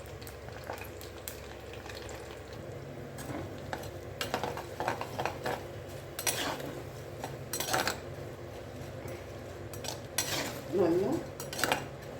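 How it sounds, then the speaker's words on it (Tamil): Dried black nightshade berries roast in a couple of spoons of oil in a clay pot, with a soft background sizzle under intermittent scraping and clattering of a spoon stirring; a voice speaks briefly. "இப்போது மணத்தக்காளி வத்தலை நம்ம வறுத்து தனியாக வச்சுக்கலாம்."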